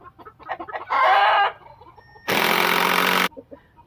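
Chickens clucking inside a backyard coop in the evening, with a couple of loud, sustained squawking calls standing out over softer scattered clucks nearby.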